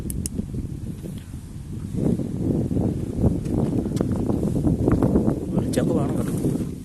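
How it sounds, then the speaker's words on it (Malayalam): Strong wind gusting across a dark night campsite during solo tent camping, a steady loud rushing roar that swells and buffets the microphone throughout, with rustling underneath. "നല്ല ഇരുട്ടായിട്ടുണ്ട്, നല്ല കാറ്റുമുണ്ട്."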